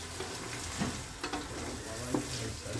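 Tomatoes sauté in a pan for chicken biryani, giving a low, steady sizzle with occasional soft stirring scrapes and light clinks, close and without voices.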